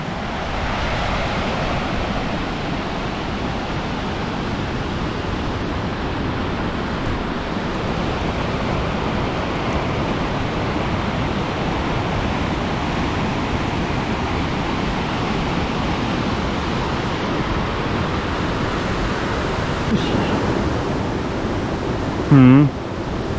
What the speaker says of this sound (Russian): Поток, конечно, тут мощный.